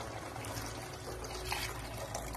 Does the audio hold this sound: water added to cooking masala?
yes